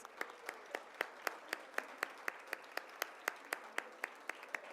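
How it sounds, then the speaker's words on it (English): At a Hispanic Heritage Month celebration, faint, evenly spaced claps repeat in a steady rhythm, about four per second, sounding like a few hands rather than a full crowd, with no voices over them. "Let's give them another round of applause."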